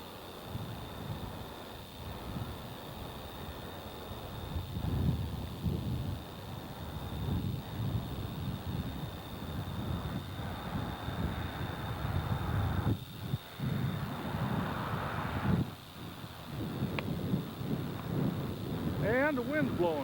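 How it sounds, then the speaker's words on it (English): Wind gusting through a deep Alaskan canyon with snowmelt waterfalls, a steady broadband roar that swells and dips over about twenty seconds, close to the microphone and buffeting it. "the wind's blowing, probably 20 miles an hour"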